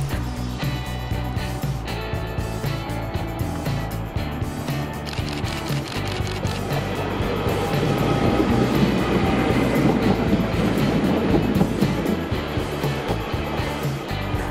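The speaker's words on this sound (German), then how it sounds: "Und zu Minute 35 verlässt dann der RE1 nach Glauchau den Bahnhof." A regional express train leaves Gößnitz station, rumbling steadily nearby, its wheels and motors building slightly in loudness as it rolls on, with continuous rail noise and no voices.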